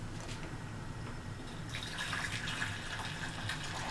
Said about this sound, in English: So what I'm going to do next is add our hot water.